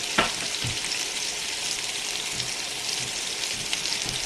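Sausage fries in a pan with a loud, continuous crackling sizzle and a few sharp pops and light stirring knocks scattered throughout.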